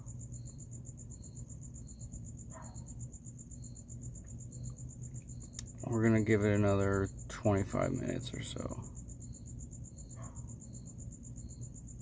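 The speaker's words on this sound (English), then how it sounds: "It probably helps that you heard the crickets" Steady cricket chirping outdoors at night in Phoenix's East Valley, a high continuous pulsing trill throughout, with someone talking briefly in the middle.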